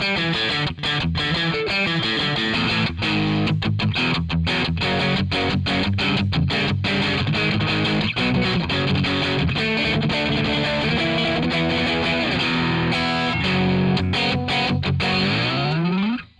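Heavily distorted djent-style guitar played through the amp and cab models of a Zoom G3Xn, with chugging palm-muted riffs and sustained chords, loud and continuous for about sixteen seconds, no talking.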